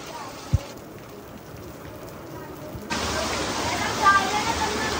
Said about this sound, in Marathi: डेंजर पाऊस चालू झाला